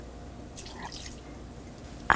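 Half a cup of water poured into a clay pot holding liver pieces and green chillies, curry leaves, ginger and salt; a faint, brief splash and drip, quiet and close.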